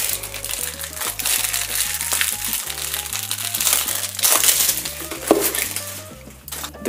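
Crinkly plastic wrap being peeled and crumpled off a My Friend Pedro collector's edition game package from Special Reserve Games, close and steady, layered over background music.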